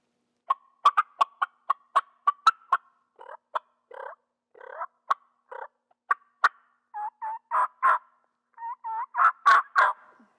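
A latex turkey mouth call imitates a wild turkey: a run of sharp, evenly spaced yelps, then choppy cutts and clucks in irregular bursts, clear and close.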